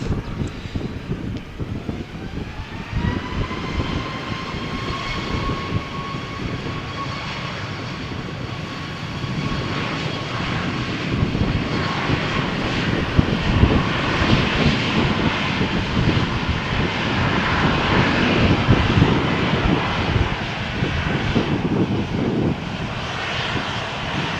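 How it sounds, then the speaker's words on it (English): A Ryanair jet takes off from runway 13 at Malaga Airport on a stormy morning, its engines building from a whining spool-up into a loud, sustained roar mixed with gusting wind noise. "So, Ryanair flight to Treviso is waiting for clearance. It seems they are now cleared for takeoff."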